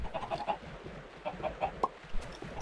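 Several chickens cluck in short, scattered bursts in Minecraft, fairly close, with soft popping sounds between them.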